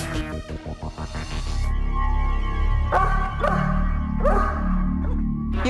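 A large police dog barks repeatedly at close range in a warehouse, deep woofs alternating with whining yelps in an excited, irregular rhythm.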